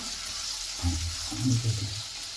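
Chopped onions and shallots sautéing in a pan make a soft steady sizzle, with a couple of brief stirring scrapes in the middle, close and fairly quiet with no one speaking.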